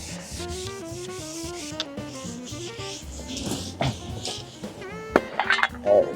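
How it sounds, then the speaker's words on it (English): Sanding a piece of wood for a desk: a steady rubbing scrape runs throughout, close, partly masked by music with a melodic line. "This is what's happening to me as I'm sanding this piece of wood right now."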